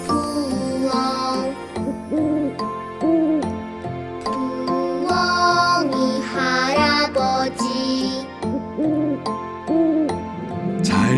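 Owl hoots woven into a gentle children's classical lullaby, with soft tuneful hooting calls over tinkling instrumental music that plays continuously and fairly loud.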